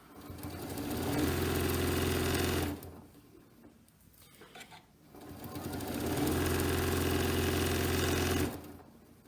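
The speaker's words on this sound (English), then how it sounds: "I'm going to go ahead and adjust my speed because I can sew a little faster" A sewing machine stitching along a fabric edge for a Christmas table trim, running in two steady sustained bursts with a brief pause between them, close and fairly loud.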